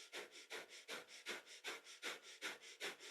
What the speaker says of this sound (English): So breath of fire in this one, panting breath